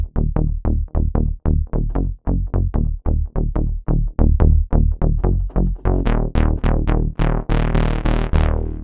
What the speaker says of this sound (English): it's this nice plucky bass that can be used for rolling bass lines that you can hear in a lot of trance tracks